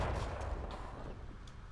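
Grenade launcher bursts in Combat Mission: Black Sea sound as dull, rumbling booms under a heavy low roar, a few sharper distant reports spaced out through the clip, with no talking.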